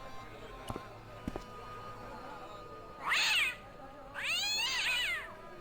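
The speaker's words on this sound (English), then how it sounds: "The cat was an ugly brute who looked like he owned the joint." A cat meows twice in the Broken Sword video game, set in a quiet bazaar in Marib: two clear, drawn-out meows, the second longer, following a couple of faint clicks against a quiet background.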